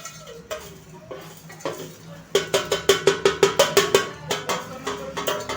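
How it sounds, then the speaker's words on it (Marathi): Fried sabudana chivda being tossed and stirred in a metal vessel, a run of quick, evenly spaced clinking scrapes and taps close by, loudest in the middle stretch, with softer scattered knocks before and after. "आता हा चिवडा आपण पातेल्यामध्ये टाकून मिक्स करून घ्यायचा आहे."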